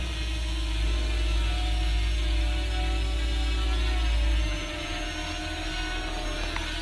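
A FIMI X8 Mini Pro drone lifts off and flies, giving a steady, loud rotor whine and hum with a low rumble that drops off partway through as it climbs away.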